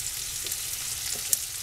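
Green beans frying in a hot pan give a steady, close sizzle with faint crackles and a single sharp pop near the end.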